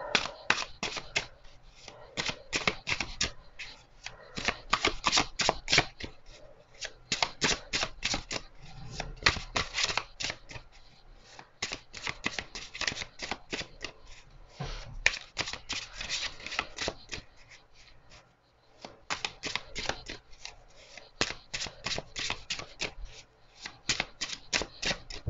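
Tarot cards are riffled and shuffled by hand, a long run of quick, crisp snapping flutters in bursts with short pauses, close and fairly quiet.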